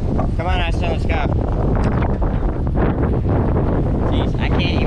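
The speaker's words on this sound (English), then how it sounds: "it's just so windy" Strong wind buffets the microphone throughout, a loud continuous roar and rumble with voices talking over it outdoors.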